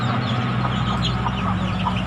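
Chickens cluck steadily inside a coop, several birds overlapping in a dense, continuous backdrop with low barnyard hum beneath and no talking.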